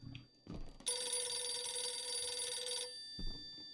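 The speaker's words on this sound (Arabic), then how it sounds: "لما نزلت يعني رن التلفون" A telephone rings in the horror video game Visage: one sustained electronic ring lasting about two seconds, bright and fairly loud, framed by brief low thumps before and after.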